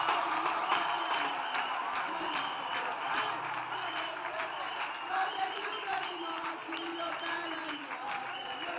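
A church congregation claps their hands during an acclamation, with steady rhythmic clapping and crowd noise continuing under voices.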